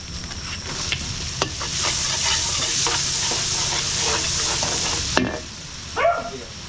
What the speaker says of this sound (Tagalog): gigisa na rin natin yung ating mixed seafood